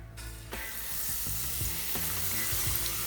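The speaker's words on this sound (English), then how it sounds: "So guys, we're just gonna fry these now" Battered fish sizzles and crackles steadily in hot oil, a constant bright frying hiss with a few soft clinks and scrapes underneath.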